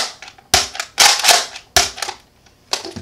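A Nerf N-Strike Modulus Recon MKII blaster fires in sharp, close bursts, each loud snap followed by a short rattling clatter, several shots spaced about a second apart.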